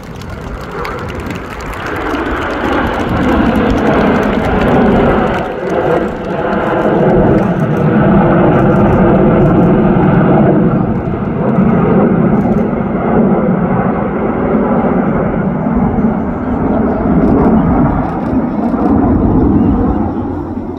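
Spitfire aircraft at an air display, a loud, rough engine roar that swells and fades as it passes, with a commentator's voice faintly underneath.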